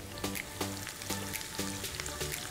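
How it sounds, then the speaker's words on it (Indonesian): Shallots sautéing in hot oil for a Manado-style stir-fried papaya flower dish, a steady close sizzle and crackle with soft repeated clicks of stirring throughout, no voices. "Kita masukkan bawang merahnya. Kita tumis terlebih dahulu."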